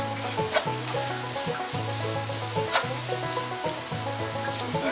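Wild foraged mushrooms, wild plants and bulbs sizzle and stir fry in a pan, a steady close frying hiss with the clatter of stirring and a faint bird clucking in the background.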